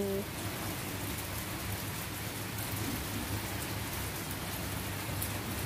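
Steady rain pours by the sea at Thap Sakae, a dense, even hiss of drops on surfaces that stays constant throughout.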